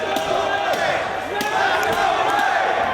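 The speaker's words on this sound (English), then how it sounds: "Punk gaining strength from the Chicago crowd" Arena crowd at a CM Punk versus Jimmy Rave wrestling match in Chicago, his hometown, roaring and cheering steadily throughout, loud and dense, with a commentator talking over it.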